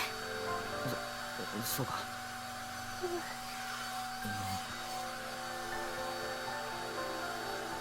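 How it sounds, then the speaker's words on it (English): A hairdryer runs with a steady whirring drone in a room within a visual novel game, continuing evenly throughout beneath a brief line of spoken dialogue and some soft background effects. "Only the sounds of the hairdryer echo throughout the room."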